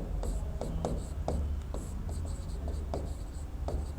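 Chalk writes on a classroom board during a physics lesson: a quick series of taps and scratchy strokes forms letters, close and fairly clear, with no speech over it.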